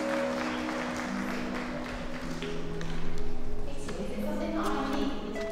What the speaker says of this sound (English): So I think she deserves a clap